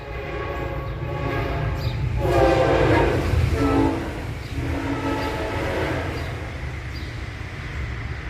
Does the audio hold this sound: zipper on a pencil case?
no